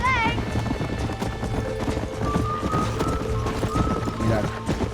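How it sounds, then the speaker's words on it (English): Wild horse hooves in Red Dead Redemption clop in a steady, close rhythm, carried through a game mix with whinny-like tones and talk over the top. "Echa el lazo a otro caballo salvaje."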